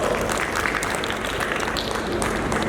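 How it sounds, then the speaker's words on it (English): Audience applause at a public gathering at Kololo in Uganda, a dense, loud and steady wash of clapping from a large crowd that runs without pause. "Round of applause."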